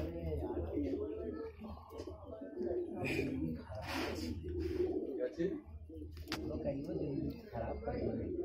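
Fancy pigeons coo steadily at a crowded bird market near Jama Masjid in Delhi, with soft repeated throaty calls under someone talking and general market chatter.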